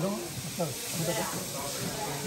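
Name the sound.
chicken and vegetables steaming, steam hissing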